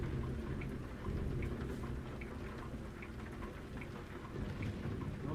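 Thunderstorm in the trucking game American Truck Simulator: steady heavy rain hiss with low rolling thunder rumbling throughout, a dense continuous wash of storm noise with no talk.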